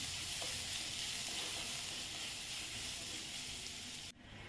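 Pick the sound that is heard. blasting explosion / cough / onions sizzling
onions sizzling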